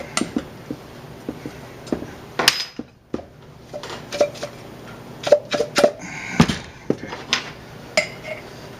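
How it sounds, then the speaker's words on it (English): An adjustable RevelLock Pro-Style kettlebell is shaken to test for rattle, making irregular sharp metallic clicks and clanks, some single and some in quick clusters, close and fairly crisp with no talk. "let's see what kind of a rattle we get"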